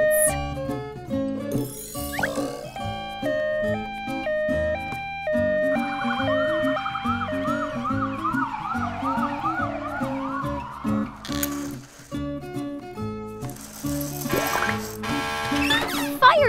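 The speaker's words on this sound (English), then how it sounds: "Ambulance." A wailing ambulance siren rises and falls over a busy, tuneful musical backing, with chimes and sound effects around it.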